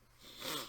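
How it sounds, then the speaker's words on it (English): A single allergy sniffle, a short breathy nasal intake that swells and fades within a second, close and fairly quiet, with no talking over it. "Allergies are bad again, guys, so sorry about the sniffling"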